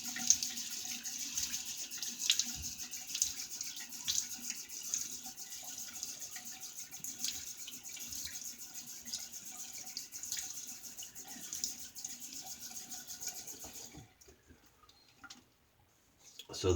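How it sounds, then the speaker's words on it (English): Tap water runs steadily into a sink as a face is wet before a shave, a continuous close hiss that holds for most of the time, then cuts off near the end leaving near silence. "Let me wet my face."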